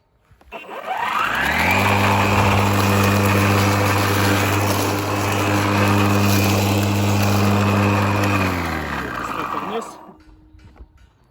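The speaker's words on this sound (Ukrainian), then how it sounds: "Пробуємо щось косити." Mac Allister MLM1834-LI cordless battery lawn mower spins up to a loud steady whine while cutting uneven, coarse grass, holding speed for about eight seconds before winding down; no talk heard.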